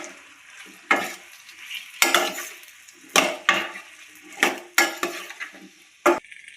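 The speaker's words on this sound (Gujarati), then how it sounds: "હવે આપણે બટેકા નાખી દઈશું કટ કર્યા હતા ઈ। હરખુથી મિક્સ કરી લેશું" Cut potatoes are stirred into cooked masala in a pan with a spoon, giving repeated scraping, clattering strokes against the metal at an uneven rhythm over a faint background sizzle, with no voices.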